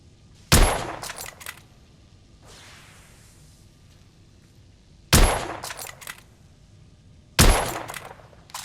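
Three sharp, loud rifle shots from a test-fired rifle in The Order: 1886, each a hard crack with a short ringing tail, spaced several seconds apart against quiet background with faint rustling between.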